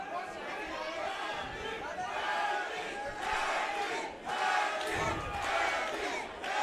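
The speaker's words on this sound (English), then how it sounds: "You hear his crowd, his New York crowd." New York boxing crowd at a holiday fight night cheering and roaring in swelling waves, a dense mass of voices that surges and dips, with ringside commentary talking over it.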